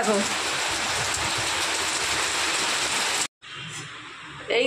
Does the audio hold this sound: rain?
yes